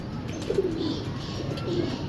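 A golden female pigeon coos softly in brief, low murmurs against a steady, faint ambient hiss, with no voices present.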